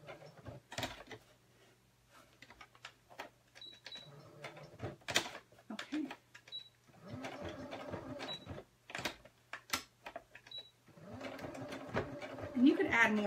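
A sewing machine runs in short bursts and pauses while straight-line quilting a fabric coaster with a guide, its mechanical whir mixed with close-up talking throughout.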